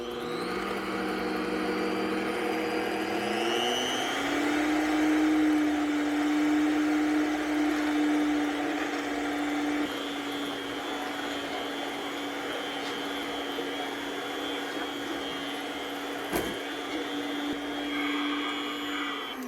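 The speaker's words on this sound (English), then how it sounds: "let me start creaming the butter and sugar for the cookies" Electric mixer creaming butter and sugar for holiday cookies, a steady whirring motor hum that rises in pitch after a few seconds, then runs on at a constant drone with a brief click near the end.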